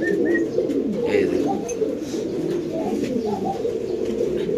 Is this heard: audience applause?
no